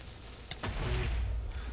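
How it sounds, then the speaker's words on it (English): Creeper explosion in a Minecraft-style survival game: a sudden sharp crack followed by a deep rumbling boom that lingers, close and fairly loud, with no talk. "block does pretty good against creeper explosions"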